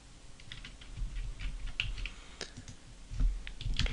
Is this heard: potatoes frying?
no